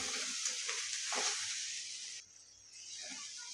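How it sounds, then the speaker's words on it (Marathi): Onion, chutney and half a spoon of turmeric fry in hot oil in a pan, giving a soft, steady sizzle with faint stirring scrapes, quiet and close with no talk. "आणि हळदही फ्राय करून घ्यायची."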